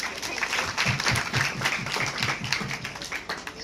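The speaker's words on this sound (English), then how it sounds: "We'll welcome madam with a big round of applause." An audience at a career guidance workshop claps to welcome a guest, a steady round of many hands close by with no one speaking.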